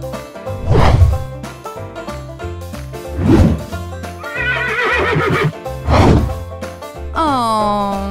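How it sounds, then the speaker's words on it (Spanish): Several loud horse whinnies and neighs ring out over farm sounds, with faint hoof clip-clop in between; a final drawn-out neigh rises and falls near the end. "Se trata de un caballo."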